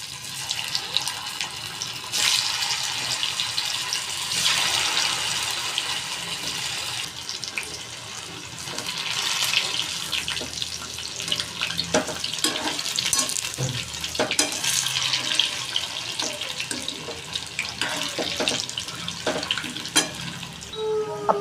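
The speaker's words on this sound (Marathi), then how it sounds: "आपल्या वड्या छान कुरकुरीत तळून झालेल्या आहेत." Aluwadi, stuffed colocasia-leaf rolls, fry in hot oil in a kadhai with a steady bubbling sizzle and crackle, punctuated by small pops and clinks, at moderate volume throughout.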